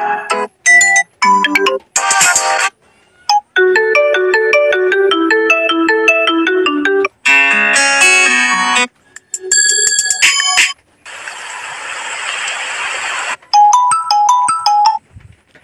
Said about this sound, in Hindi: अगर फ्रेंड्स आप कोई सिस्टम रिंगटोन लगाना चाहते हैं